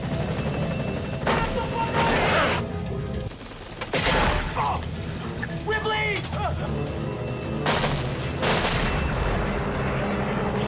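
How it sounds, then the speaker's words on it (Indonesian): Gunfire from a guerrilla shooting at travellers in a jungle film scene, a few loud cracking bursts and booms scattered through a dense, noisy soundtrack. "Namun di tengah perjalanan mereka ditembaki oleh seorang gerilyawan."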